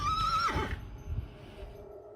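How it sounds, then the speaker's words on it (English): A horse gives one loud, close whinny that rises and then falls away. A few soft hoof and ground sounds follow as the whinny fades. "They're horses."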